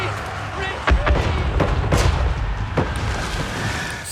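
In a Total War: Warhammer 3 battle, magma cannons and Dreadquake mortars fire in heavy booming blasts, several sharp bursts over a dense rumbling battlefield din, with someone talking throughout.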